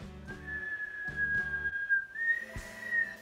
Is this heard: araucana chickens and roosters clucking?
no